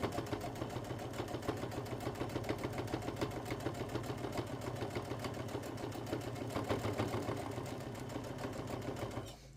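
A home sewing machine running steadily in a sewing-day session, its rapid even stitching chatter continuing close and fairly loud for the whole stretch before stopping at the very end, with no voices.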